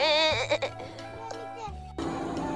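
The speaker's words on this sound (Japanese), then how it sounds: "ヤギが、ヤギが上に登ってんじゃん。" Goats bleating while climbing up high, a short wavering cry at the start followed by a fainter call, with people talking close by.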